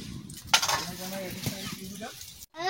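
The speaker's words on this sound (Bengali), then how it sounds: "মাংস ভাজা হয়ে গেছে, আমি জল ঢেলে দিচ্ছি" Water poured into a pan of frying pieces of a large chicken, setting off a loud burst of sizzling and bubbling that settles into a steady fry, with stirring noises and a brief cut near the end.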